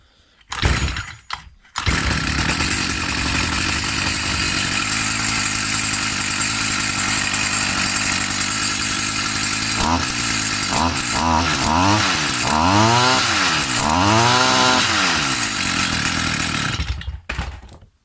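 A small two-stroke engine of an old Stihl FS 55 string trimmer sputters to life, then runs at a loud steady idle, slightly lean, with several rising and falling revs near the end before cutting off.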